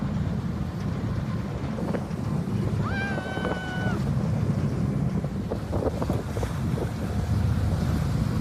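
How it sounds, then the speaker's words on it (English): Strong wind roars steadily across the microphone aboard a boat heading to glaciers, with a brief high whistle partway through and water rushing underneath. "some of the strongest wind I've experienced in my whole life"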